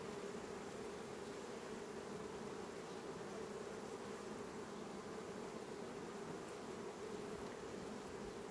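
Honeybees hum steadily at an open hive during colony expansion, a dense continuous buzz from many bees close by, even and unbroken with no voices.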